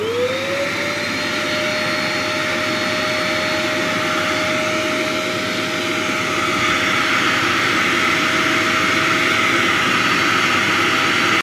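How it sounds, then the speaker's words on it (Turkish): A household vacuum cleaner draws air out of a plastic garbage bag, a loud continuous motor whine that rises in pitch as it starts, then holds steady, shifting slightly as the bag empties. "Şimdi süpürgeyle çekme işlemi yapacağız."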